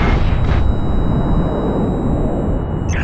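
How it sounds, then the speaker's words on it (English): A torpedo launch and explosion in Halo: Reach roar as one loud, dense, sustained rumble that fills the whole span, with a brief whoosh at the start and no voices. "Torpedo launch detected."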